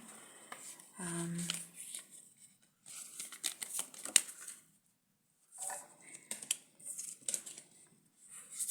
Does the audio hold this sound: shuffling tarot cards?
yes